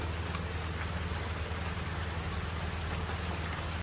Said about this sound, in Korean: 점점 하늘이 흐려지더니 비가 옵니다.